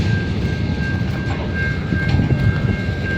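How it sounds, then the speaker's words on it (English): A locomotive pushes a long train of grain wagons toward prairie silos. It gives a loud, steady rumble with a rolling wheel clatter and a thin, high squeal running throughout. "there's the locomotive who pushes these trains to the grain silos"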